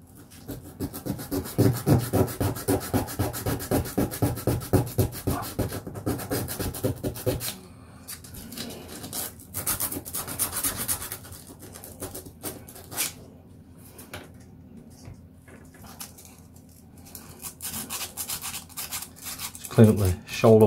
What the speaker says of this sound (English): just give it a little rough up, make sure there's no greases on it